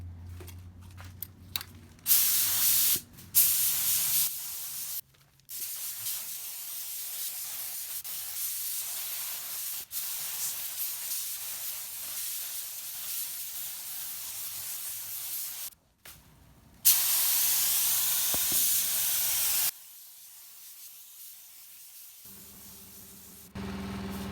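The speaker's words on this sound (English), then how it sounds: "And throw one more coat. Round 2 of the clear coat." Spray gun laying a second coat of clear on a wrecked Jeep Rubicon being rebuilt, heard as a close, steady broadband hiss broken into several bursts with short pauses between passes.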